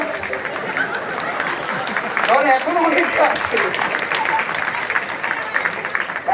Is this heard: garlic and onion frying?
no